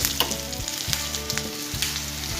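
Green chilies frying in oil in a pan while cooking moong dal with spinach: a loud, steady close sizzle with faint crackles throughout, no talking.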